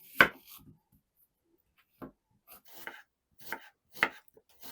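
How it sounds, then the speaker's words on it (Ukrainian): A knife chops onion into half rings on a cutting board for a cabbage dumpling filling, giving a handful of separate close, crisp thuds spaced about half a second to a second apart. "Цибулю поріжу напівкілечками."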